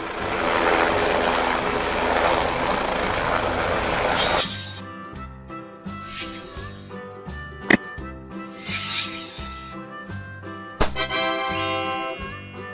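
A helicopter gives a roaring, rushing engine and rotor noise for about four seconds, then stops suddenly as bright, tinkling music takes over.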